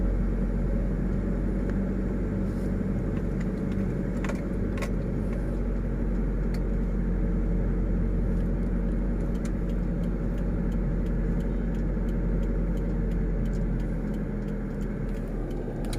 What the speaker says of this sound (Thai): เดี๋ยวครูจะให้น้องป๊อปเร่งคันเร่งนะครับให้ได้รอบนะฟังเสียงเขายนต์วูดนะนะ